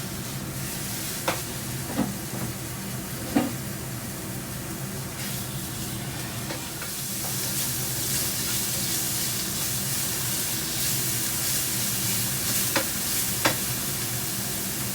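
Beef sizzles and fries in a hot pan for sweet spaghetti sauce, a steady crackling hiss that grows louder partway through, broken by occasional sharp scraping clicks of stirring.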